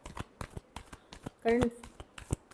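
Tarot cards are shuffled in a quick riffle, a burst of crisp papery flutter lasting a moment, surrounded by soft scattered handling clicks and taps.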